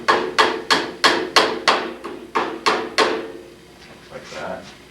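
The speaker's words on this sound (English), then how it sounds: "take your hammer and put one of these white staples and nail it into the stud pretty close to the box." A hammer drives a white staple into a wooden stud beside an electrical outlet box with about nine sharp, evenly spaced blows, close and loud, followed by faint shuffling and talk.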